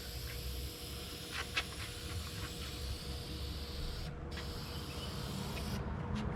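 Spray gun laying long, even passes of paint across a Firebird car panel, a steady close hiss with brief pauses between strokes and no talking.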